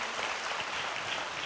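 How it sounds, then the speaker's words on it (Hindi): A church congregation claps loudly and steadily as a dense wash of applause throughout, with no break and no voices standing out above it. "जोर से तालियां बजाकर प्रभु यीशु को धन्यवाद दीजिए"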